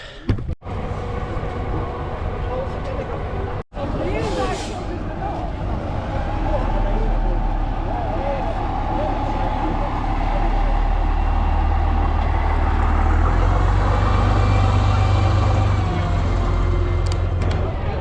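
A vintage bus at a bus event in Dunfermline runs with a steady low engine rumble that swells louder in the second half, heard close by under people talking.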